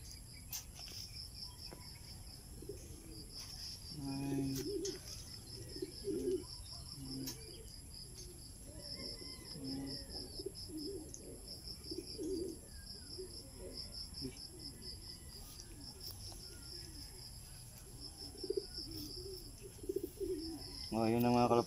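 Racing pigeons call and coo on and off over a steady insect-like drone, with faint background voices and rustling, at a pigeon race in Rosario, La Union.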